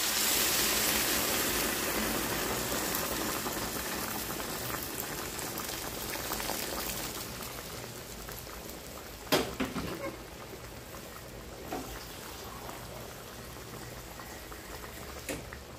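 A pot of water for ginataang monggo at a rolling boil, a continuous close bubbling wash that eases slightly over time, with a few sharp clinks of a utensil against the pot.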